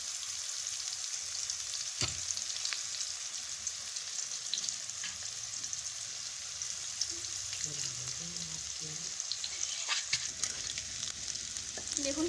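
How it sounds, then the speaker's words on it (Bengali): Potatoes and young jackfruit fry in hot oil for a paneer echor dish, giving a steady, close sizzle that runs throughout with occasional soft clatter from stirring. "একটু ভালো করে লাল লাল করে ভেজে নিচ্ছি।"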